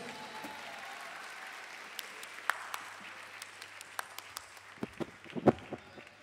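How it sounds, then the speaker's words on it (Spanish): Applause at a music festival concert for the bands fades from a broad crowd wash into sparse, scattered individual claps, thinning toward the end. "Fuerte el aplauso para ellos"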